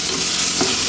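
Crushed shallots sauté in hot coconut oil for a Kerala lunch dish, giving a steady close sizzle with a brief soft stir of the spoon partway through.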